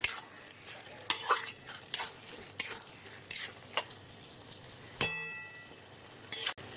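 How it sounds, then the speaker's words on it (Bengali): Spinach and prawn curry is sautéed in a pan, with a spoon scraping and stirring in repeated short strokes over a faint, low sizzle, plus a sharp metallic clink near the end. "সুন্দর করে কষিয়ে নেব।"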